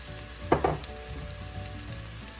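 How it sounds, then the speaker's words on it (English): Onions fry in hot oil with a little salt added, giving a steady hiss and crackle, briefly louder with a stirring scrape near the start, then settling into a constant close sizzle. "add us a little bit of salt, and that'll help those onions start"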